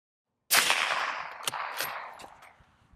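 A single suppressed gunshot from a rifle fitted with a long Resilient Jolene lightweight HUB-compatible silencer: one sharp crack that rings out and decays over a couple of seconds, with faint echoing reflections and no talk.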